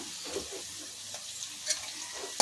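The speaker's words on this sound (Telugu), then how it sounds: "ఇందులో కొంచెం కరివేపాకు వేసుకుందాము" Curry leaves dropped into frying onions for a cluster beans stir-fry, a constant close sizzle with small pops and crackles, short and steady, no talk.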